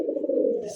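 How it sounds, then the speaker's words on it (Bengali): An orange chilla pigeon gives a single short, low coo up close, clear and alone. "চিল্লা কবুতরের ডাক"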